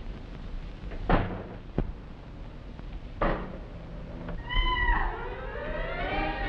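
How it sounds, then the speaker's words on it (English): Domestic cat meowing indoors, one drawn-out wavering meow near the end after a couple of sharp knocks and bumps, moderately close in a quiet room. "It was only a cat."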